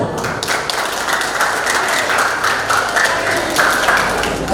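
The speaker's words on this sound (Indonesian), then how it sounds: "kita sambut dengan tepuk tangan" Audience at an elementary school year-end ceremony breaks into loud, sustained applause, many hands clapping in a dense, even stream with a few sharper individual claps standing out.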